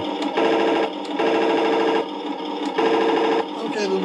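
A Panzer III toy tank plays its electronic machine gun sound effect, a loud buzzing rattle repeated in three steady bursts with brief gaps between them.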